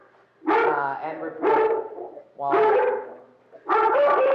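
Dogs bark during a township committee meeting held remotely: four drawn-out, whiny barks come in quick succession, loud and close, with a voice briefly heard.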